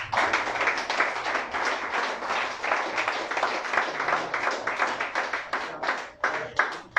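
A church congregation breaks into dense, continuous applause, loud and close throughout, with a few sharper claps standing out as it thins at the end.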